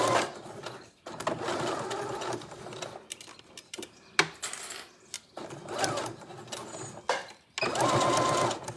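A sewing machine runs in bursts as it stitches a seam on a boho bag, its rapid mechanical whirr starting and stopping several times with short pauses between runs, close and clear.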